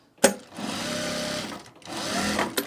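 Sewing machine stitching a garment duffle bag, two steady runs of close, loud mechanical whirring separated by a short pause, with a sharp click at the start and another near the end.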